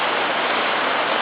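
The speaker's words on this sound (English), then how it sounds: "look how hard it's raining now." Heavy rain pouring down outdoors, a loud, dense, even hiss of water with no pauses and no voices.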